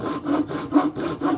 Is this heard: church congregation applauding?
no